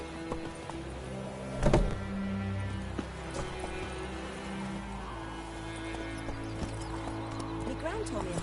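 Roach the horse gallops in The Witcher 3, steady clip-clop hoofbeats with a brief louder thump early on, heard under ongoing game dialogue and background music.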